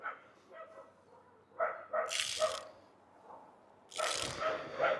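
Dogs bark sharply nearby during a car foam wash, two short clusters of loud barks and yips separated by quieter stretches with lower whines.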